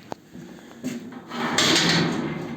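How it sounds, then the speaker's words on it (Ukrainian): A door on a Bitek lift is opened, giving a short click followed by a rising sliding, rumbling scrape that grows louder and continues steadily, close by with no talk. "Так, двері я відкрив."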